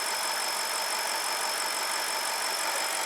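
A BMW N62 V8 engine idles while warming up, a steady, loud, unbroken drone with a dense hissing edge, heard up close and alone without any voices.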